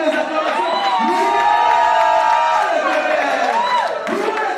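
A church congregation sings and cheers loudly in praise, with massed voices and melodic sung lines carrying over a dense crowd roar throughout.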